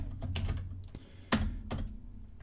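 Quick bursts of keystrokes on a computer keyboard while code is typed, sharp clicks in short irregular clusters, close and fairly quiet.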